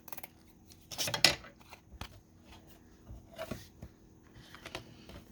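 Scissors trim patterned 12x12 paper for a handmade bookmark, a cluster of crisp close snips early on, then scattered single cuts and paper rustles in a quiet room.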